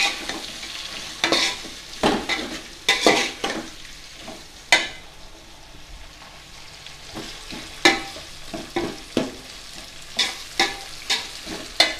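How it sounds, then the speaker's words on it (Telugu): Tomato pieces being stirred into sizzling chicken biryani masala in a pan, with repeated scraping spoon strokes in an irregular rhythm over a continuous close frying hiss. "ఈ టమాటా ముక్కల్ని ఇలా అన్నిటిని వేసుకొని ఒకసారి బాగా కలుపుకోవాలి"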